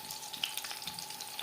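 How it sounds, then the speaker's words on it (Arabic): Garlic fries in oil, a faint crackly sizzle with small popping spatters and a sharper clink at the very end. "يعني هي كتقلى، حنا كنحاولوا اننا نمعسوها على هاد الشكل."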